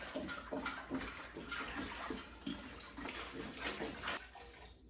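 2.5 gallons of water pour steadily into a container for making pickles, a continuous splashing gush heard close up for several seconds before it stops.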